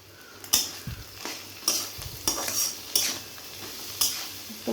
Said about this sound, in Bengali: তো মশলাটাকে ভাজা ভাজা করে নেব।